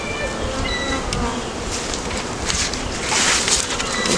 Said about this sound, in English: You see right there is a good amount of bees on that